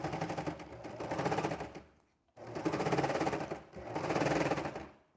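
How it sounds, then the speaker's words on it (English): A serger stitching through a thick pile of fabric runs in three loud bursts of rapid mechanical whirring, with a short pause after the first burst and a brief dip before the last. "sew it down first and make sure that everything's aligned properly before taking it over to the serger"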